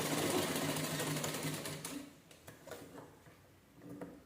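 A sewing machine stitches a blouse, its fast rattling whir loud and close for about two seconds before slowing and stopping, followed by light clicks and fabric handling.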